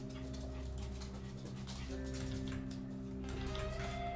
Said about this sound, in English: You again, little dog.